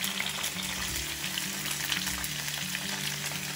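Chopped raw tomatoes frying in hot oil in a pan, giving an even, dense sizzle that holds steady and close throughout, a low hum underneath and no talking.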